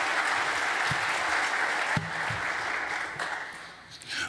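Audience at the New Zealand Game Developers Conference opening applauds award recipients, with sustained, even clapping that holds steady and then thins out toward the end.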